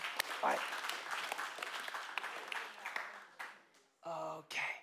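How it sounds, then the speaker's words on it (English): Audience applause for ninth graders at a youth gathering, a dense wash of clapping that fades out after a few seconds, with a person speaking over it near the end. "One more clap, guys, for the ninth graders in the room"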